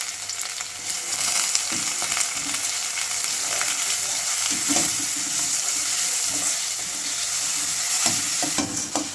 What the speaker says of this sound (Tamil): கூட கொஞ்சம் கருவேப்பிலையும் போட்டு நல்லா வதக்கி விட்டுக்கலாம்.